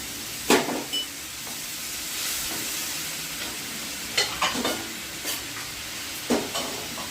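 Hot water poured into a thin Bengali fish curry sizzles in the pan, a steady hiss broken by several sharp stirring scrapes and bursts of spitting, close and fairly loud, with no talking.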